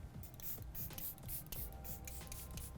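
Makeup setting spray misted onto the face in a quick series of hissing pump bursts, close and steady, with a faint mechanical click at each press and no talk.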